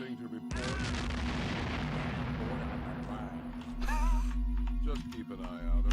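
Explosions in the video game Star Trek: Voyager - Elite Force, a continuous rumbling blast texture with heavier booms toward the end, mixed under game dialogue and effects.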